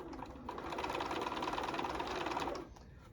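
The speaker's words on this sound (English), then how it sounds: "So we're going to stitch all the way around the top, close to the edge." A sewing machine runs a seam around the top edge of a fabric bunny treat bag, a close, steady mechanical whir of about two seconds between brief pauses.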